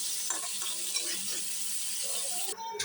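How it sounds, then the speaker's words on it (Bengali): Hilsa fish fry in a pan in a home kitchen, giving a steady close sizzle with light crackles throughout. "তো দুপুরে রান্নার জন্য ইলিশ মাছ ভেজে নিচ্ছি।"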